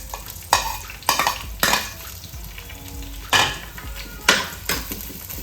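Shallots, green chilies and ginger frying in a pan for a coconut fish curry, a constant sizzle punctuated by loud metallic scrapes and clanks of stirring at irregular intervals.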